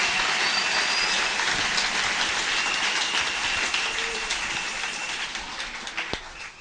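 Church congregation applauding at a sermon, a steady broad wash of clapping that stays loud throughout and fades slightly toward the end.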